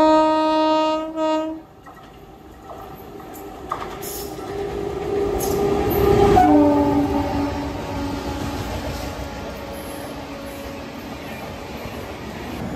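A passenger train on a Mumbai to Prayagraj rail journey passes near Itarsi station: a loud multi-tone horn blast opens, then a steady, swelling rumble of wheels and carriages rolls by up close, peaks midway and fades gradually, with no talking.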